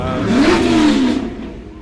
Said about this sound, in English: you can probably hear some exhaust in the background